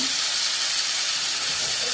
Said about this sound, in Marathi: चिंचेचं पाणी टाकत आहे.